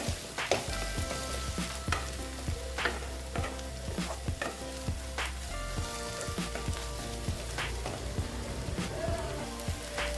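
Dried fish and tomato fry in oil in a pan, a continuous crackling sizzle with frequent sharp spatters and stirring clinks, near and steady, with no talking.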